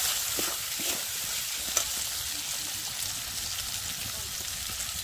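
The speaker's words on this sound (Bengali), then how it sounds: "টমেটোগুলো দিয়ে দিলাম। হালকা কষানো হবে" Tomatoes sautéing in a pan for a purple cabbage dish, a soft steady sizzle with a few faint stirring taps, fairly quiet throughout.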